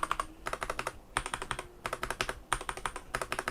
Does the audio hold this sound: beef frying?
no